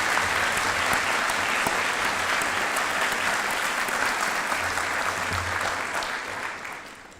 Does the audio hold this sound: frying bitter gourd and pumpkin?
no